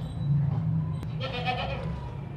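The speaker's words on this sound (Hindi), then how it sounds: "ये बकरी चेक करें भाई, प्योर देसी मक्खी चीनी है" A healthy, milk-giving desi Makhi Cheeni goat gives a single bleat at moderate distance amid steady outdoor background noise.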